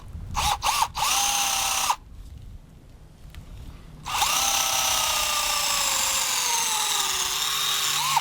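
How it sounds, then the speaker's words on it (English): A power drill bores through wood in two sustained whining runs with a short pause between, the motor pitch sagging slightly under load, close and fairly loud with no talk. "I just drill through halfway from one side and then turn it over"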